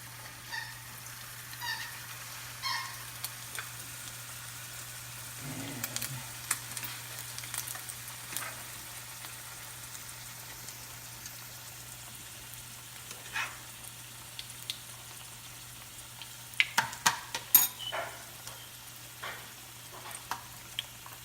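A folded tortilla for brisket tacos set into hot oil, frying with a quiet, scattered crackle and occasional small pops over a low steady hum.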